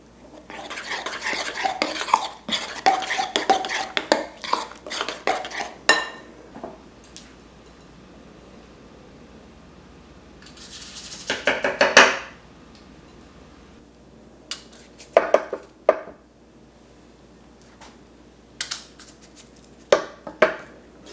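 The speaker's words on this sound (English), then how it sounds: "So as we're putting this oatmeal mixture in" Peanut butter oatmeal muffin batter being spooned into muffin cups, with bursts of scraping and tapping clatter against a pan, then quieter gaps broken by a few short knocks.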